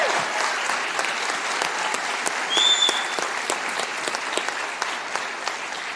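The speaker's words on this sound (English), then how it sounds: "let's applaud for their accomplishments" Audience applause at a city council meeting honoring state wrestling champions, a steady dense clatter of many hands clapping continuously throughout, fairly close and even in loudness.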